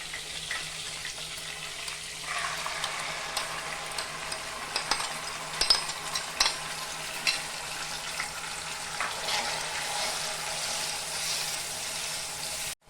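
Bay leaves and whole garam masala crackle in hot white oil: a steady close sizzle runs throughout, dotted with small clicks and taps of stirring.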